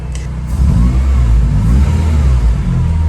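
A Honda Integra Type R engine revving steadily and loudly up close, a continuous low droning rumble with slight swells in pitch, no speech.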